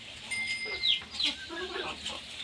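Farm chickens cluck and chatter while pecking at thorny grass thrown down for them, several birds close by with overlapping short calls and a few sharper squawks over a steady background.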